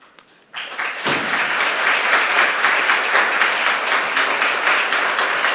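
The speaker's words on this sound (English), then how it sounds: "It's always better to get applause at the beginning." An audience applauds at a public conversation on building trust and reconciliation. After a short quiet start, full, dense clapping swells and holds steady and loud to the end.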